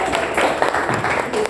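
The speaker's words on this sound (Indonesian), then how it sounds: "Nengah Suta, tepuk tangan dulu." Classroom audience applause for the top-ranked student, a dense patter of clapping sustained throughout under a teacher's voice.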